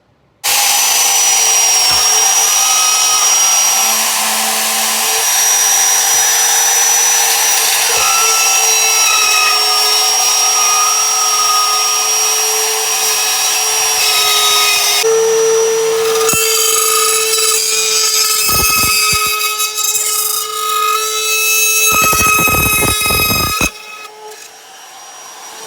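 A router cuts an electrical box opening in drywall with a loud, sustained high whine that shifts pitch midway through the cut, then cuts off abruptly near the end.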